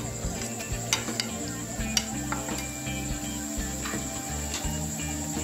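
Ginger and garlic paste sizzling and frying in a pan for biryani, a steady close hiss with occasional scrapes of stirring throughout.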